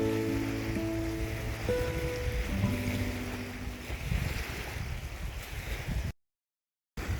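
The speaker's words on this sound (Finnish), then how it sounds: "Vähän tuulista." Wind blowing at a long sandy lake beach in Ruokolahti, a soft steady whoosh over low rumble, with some tonal ringing early on and a short dropout near the end.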